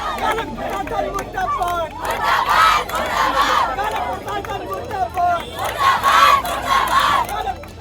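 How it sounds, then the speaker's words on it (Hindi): Hundreds of medical students gathered at a medical college gate shout slogans together in rising and falling bursts of loud chanting, with crowd chatter filling the gaps. "सैकड़ों की संख्या में मेडिकल के छात्र मेडिकल कॉलेज के गेट पर इकट्ठे हो गए और जमकर नारेबाजी"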